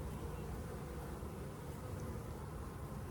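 Honey bees drone inside an open beehive with no comb drawn, a close, continuous and even buzzing that holds steady throughout with no pauses.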